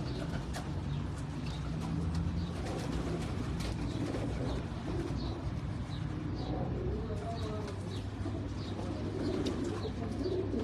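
Pigeons cooing on a Karachi rooftop loft, low throaty coos repeating over a constant hum of ambient noise, close and steady throughout.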